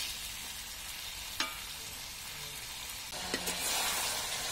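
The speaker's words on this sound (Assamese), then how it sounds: "মই এতিয়া এইখিনি হাতেৰে এনেকৈ হেতাৰে লৰাই অলপ সময় ভাজি ল'ম।" Chicken pieces fry over a wood fire, a faint steady sizzle with a couple of brief scrapes from a spatula stirring the meat, low and unaccompanied by voices.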